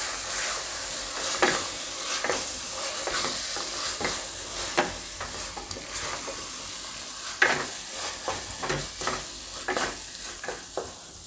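Boiled peas are stirred into tomato gravy frying in a pan for mixed vegetable shaak, giving a soft continuous sizzle with repeated spoon scrapes and taps at an uneven pace, fairly faint and without talk.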